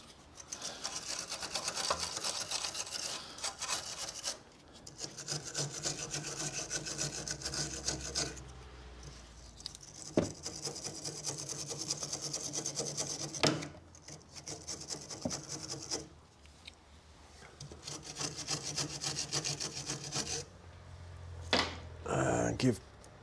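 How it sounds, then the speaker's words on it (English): A wire brush scrubs the rusty track rod end on a 2010 Mazda 2 1.5 petrol, giving bursts of quick, rhythmic rasping strokes with short pauses between them, close up and fairly loud. "I'm just going to give it a quick wire brush off."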